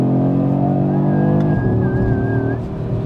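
Audi RS 3 engine revving, a loud, smooth multi-harmonic note that rises and holds, then drops slightly as the revs ease, heard close and continuous.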